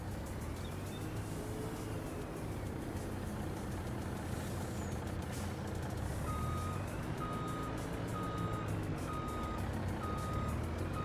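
A truck's reversing beeper in a farming video game, evenly spaced electronic beeps starting midway, over a steady engine drone and rumble, with a brief air-brake-like hiss.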